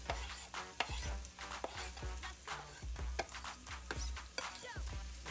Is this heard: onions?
yes